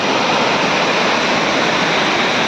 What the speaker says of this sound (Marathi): एकदम वरतून पाणी येतं इथे